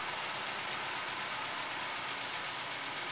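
A 1964 Chevy truck engine idles with a steady, even rumble and hiss, constant throughout with no voices.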